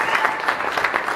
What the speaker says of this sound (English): let's give applause for everyone who competed tonight